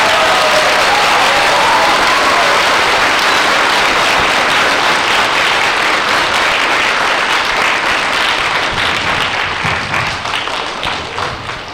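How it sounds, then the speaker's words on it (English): A school audience of boys and girls gives sustained applause for U.S. troops on a holiday-season video call, a dense wash of clapping that stays loud throughout and tapers slightly near the end. "how about a round of applause"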